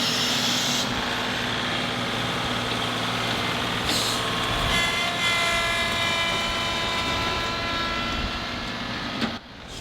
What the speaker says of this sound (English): move all these dirt piles with the tractor